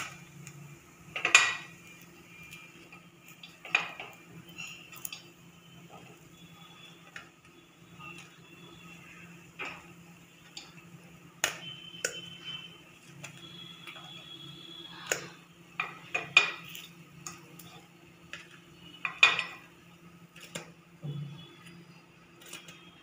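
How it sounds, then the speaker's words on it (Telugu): Gunta ponganalu are lifted from the pan onto a plate with a utensil, making sparse, scattered metallic clicks and taps over a quiet steady background hum. "ఇప్పుడు ప్లేట్లో తీసుకుందాం చూడండి ఒక ప్లేట్లో ఇలా తీసుకుందాం"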